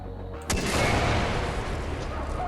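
Bazooka blast and gunfire in the video game Far Cry 4, opening with a sudden loud boom that settles into a dense, roaring rumble of explosion and weapon noise lasting to the end.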